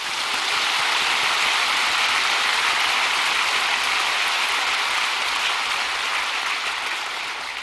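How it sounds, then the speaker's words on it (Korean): A church congregation claps together in loud, sustained applause filling a large worship hall, dense and steady without pause, then easing slightly toward the end. "우리 하나님께 한 박수를 치십시오"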